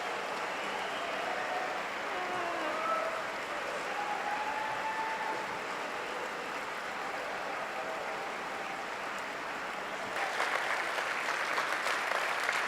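A standing ovation from a Rotary gathering during a presidential address, sustained crowd clapping blended into a hall wash, fairly faint and even, swelling slightly louder near the end.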